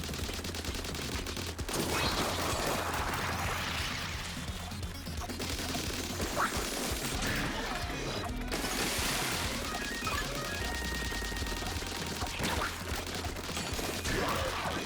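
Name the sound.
rapid-fire weapon shooting in video game Splatoon 3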